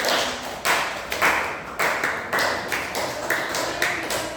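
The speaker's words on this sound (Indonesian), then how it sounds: "tepuk tangan, tepuk tangan" Students in a classroom clap their hands in a series of sharp, evenly spaced bursts, loud and close.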